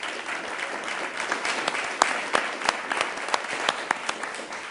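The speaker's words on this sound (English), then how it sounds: "Representative, we'll give you a round of applause as well." A crowd at a Sioux Falls council meeting applauds a state representative, brisk mixed clapping with sharp individual claps standing out, steady and close, with a faint voice beneath.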